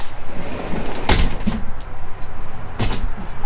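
A cabinet door in a 2024 Alliance 310RL RV camper closes and latches, giving two sharp knocks about two seconds apart over a quiet background of room noise and small rustles.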